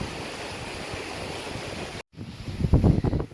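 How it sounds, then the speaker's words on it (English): Strong wind roaring on a hiking trail near Cottonwood Campground, a steady rushing blast buffeting the microphone, briefly cutting out, then returning in heavier gusts. "the wind has not died down yet"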